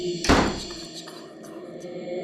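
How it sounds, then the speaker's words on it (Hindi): A single heavy door slams shut in a haunted mansion, a sharp, loud thud near the start that fades into a quiet, eerie background hum. "दरवाजा जोर से बंद हो गया।"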